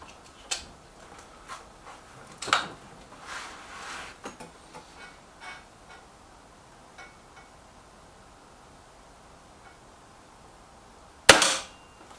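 BSA TS Ultra air rifle being loaded with a new pellet magazine, heard as a few scattered mechanical clicks and snaps, then one sharp, loud crack of the shot near the end.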